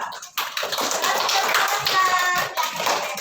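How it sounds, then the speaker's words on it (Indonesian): Classroom of children clapping hands for a student group, a burst of quick close clapping starting after a brief pause, with faint voices mixed in beneath. "kita kasih tepuk tangan dulu untuk kelompok 2"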